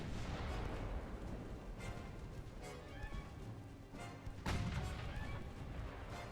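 Naval 3-inch guns firing volleys in the naval warfare game Ultimate Admiral Dreadnoughts, with dense, overlapping booms and cracks across the whole stretch and a heavier burst near the end.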